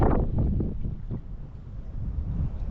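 Strong wind buffets the microphone at a bluegill fishing spot on the water, a loud continuous rumbling roar with gusty surges and no talking.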